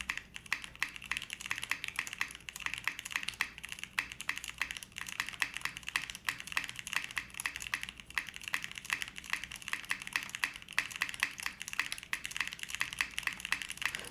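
Typing on a No. 1/65 mechanical keyboard fitted with MT3 keycaps, a fast, even run of soft clacky keystrokes that continues steadily throughout at close range.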